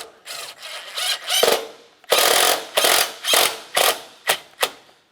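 An 8mm ratchet snugs down a battery hold-down bolt on a 1994-2002 Dodge Ram 2500, clicking loudly and close in about eight short bursts of rapid pawl ratcheting separated by brief pauses.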